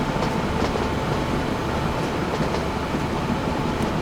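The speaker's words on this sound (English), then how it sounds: "I don't understand why the train should be slowing down here." A train rolls along rails in the Train Fever railway simulation game, a dense steady rumble with faint rhythmic clatter, loud and unbroken, with no voices.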